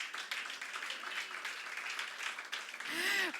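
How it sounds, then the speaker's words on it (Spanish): A church congregation at a Sunday service applauds, a soft, distant wash of clapping across the room, with a brief voice rising near the end. "Puede darle el aplauso a Jesús"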